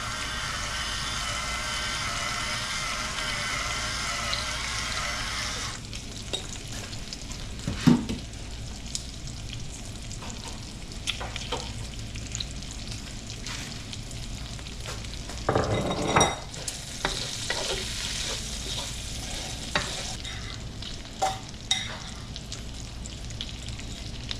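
Carbonara seasoned with black pepper is stirred in a hot pan, giving a continuous sizzle with spoon scrapes and light metal clinks throughout. A sharp clatter and a louder burst of frying interrupt the steady cooking noise, and there is no talk.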